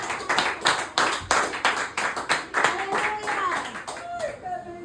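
Church congregation clapping in a steady, rhythmic beat during an evangelical service, loud and close, with voices calling out and someone speaking over the claps.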